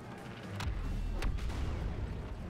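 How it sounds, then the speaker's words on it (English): A thermal imploder grenade goes off in Star Wars Battlefront 2 on Yavin 4 during Blast mode, giving sharp booming blasts over a continuous low rumble of distant battlefield gunfire and explosions. "We'll throw a thermal imploder."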